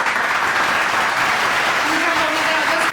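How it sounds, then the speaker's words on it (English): Loud, close audience applause at an awards gala honoring an acting guest, dense continuous clapping with some crowd voices mixed in. "Ladies and gentlemen, big round of applause for our guest of honor in the category of acting, Pooja Mahendra."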